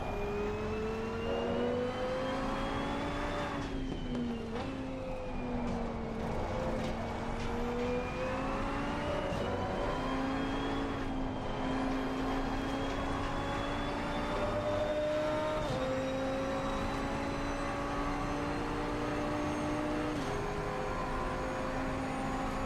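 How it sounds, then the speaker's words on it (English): GT2 race car engine in a sim racing game played on a PXN V12 Lite wheel with a MOZA Racing KS rim, a loud continuous drone climbing in pitch and dropping back at each gear shift, with no talk. "Today I kind of wanted to give you a little bit more of the engine sound"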